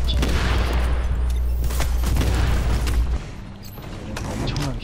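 Repeated booming blasts and gunfire-like bursts from bombs exploding in a video game, loud and dense throughout with a heavy low rumble that cuts off partway, and faint voices underneath.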